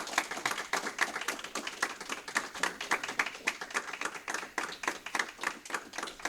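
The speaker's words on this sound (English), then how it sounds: "you can all give a round of applause to this drug-free world team of scouts" Applause for a Drug-Free World team of scouts at a community conference in Queens, New York: a steady run of many hands clapping, moderately loud and continuous, with no voices over it.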